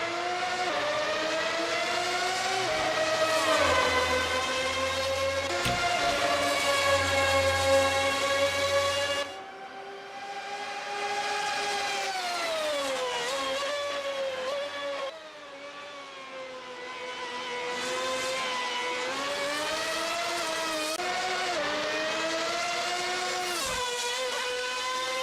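A Toyota TS020 race car engine screams in a Le Mans practice session of a racing game, a loud sustained high-revving whine that rises and falls through gear changes without speech.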